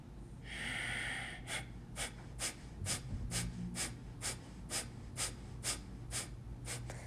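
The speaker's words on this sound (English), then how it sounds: "draw the navel in, breathing out of the nose. Keep it going for the count of 50." Rapid breathing out through the nose during a gentle yoga exercise: a longer inhale, then about a dozen quick, sharp nasal exhalations in a steady rhythm, close and soft, with no talking.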